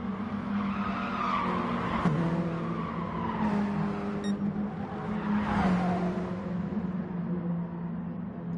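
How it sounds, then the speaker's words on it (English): Mini Cooper Cup race cars at Suzuka East Circuit squeal their tyres through the turns at speed, with a sustained wailing screech over a steady engine drone and pitch sweeps as the cars corner, heard from a distance. "Feel the pain of these tyres going around these turns in the minis"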